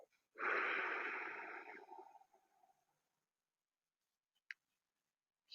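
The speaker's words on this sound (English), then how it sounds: "Exhale through our mouth." A single long breath pushed out through the mouth in a quiet room during a meditation exercise, strong at first and then tapering to silence, followed by a faint click.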